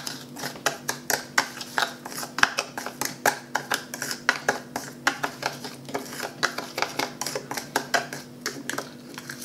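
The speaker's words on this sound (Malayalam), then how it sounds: "ഒരല്പം പഞ്ചസാര ഇതിലേക്കിടാം. അതിനുശേഷം ഇതെല്ലാം ശരിക്കും മിക്സ് ചെയ്യുക." Homemade sugar lip scrub being stirred in a small container, a steady run of close, rhythmic scraping and clicking strokes with no voice over them.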